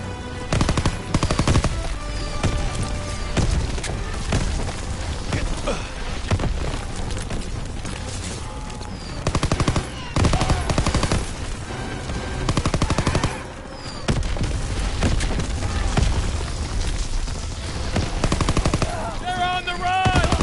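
Bombs dropping and bursting in the World War II video game Call of Duty WWII, with dense, loud, continuous gunfire and repeated heavy blasts throughout, with brief quieter gaps between volleys.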